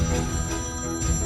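A phone ringtone plays continuously and loudly in a drama scene, with a steady repeating melodic ring and no talk over it.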